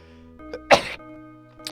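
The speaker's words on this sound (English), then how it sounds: "There's some kind of a dustiness going on in the air, and it's got me sneezing." A single close, sharp sneeze bursts out near the middle, set against a quiet video-game music background with a couple of faint small sounds around it.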